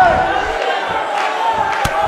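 Arena crowd in the WWE 2K18 wrestling video game roaring steadily throughout, with a thud from the ring partway through and a commentator talking over the noise.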